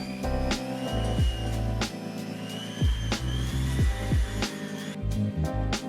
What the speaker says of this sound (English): a final polish with some green rouge and a buff